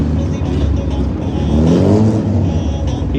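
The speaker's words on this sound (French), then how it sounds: "Le véhicule passe sans aucune difficulté." A car creeps slowly through a narrow gap of about 1.5 metres on a driving demonstration course, its engine humming steadily and fairly close throughout.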